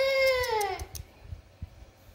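A white male cat gives one clear, drawn-out meow that falls in pitch, close and fairly loud, then trails off into quiet room noise with a few soft thumps.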